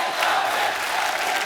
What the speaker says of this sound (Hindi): सोनाक्षी के लिए जोरदार तालियां।